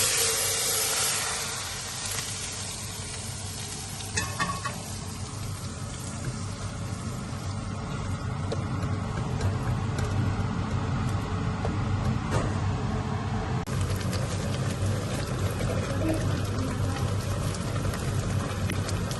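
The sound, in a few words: browned garlic tempering poured into masoor dal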